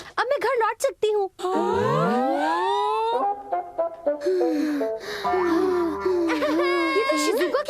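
Shizuka, a Doraemon cartoon girl, crying in animated wailing sobs with rising and falling whimpers, broken by short pauses and mixed with other cartoon voices and sound effects.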